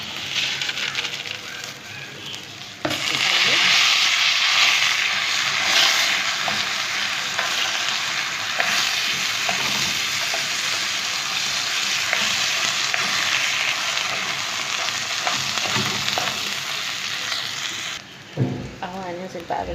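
Rice frying in hot oil in a pan while being stirred for an Egyptian meal of green beans with meat and rice, a loud, dense sizzle with scraping stirs that starts abruptly and runs until it drops away near the end.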